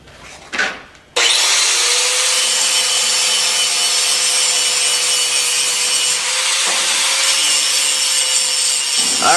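Angle grinder grinding bevels and stripping rust from cast iron before welding, a loud, close, sustained high-pitched whine with abrasive rasping that starts after a brief rustle and runs continuously to the end.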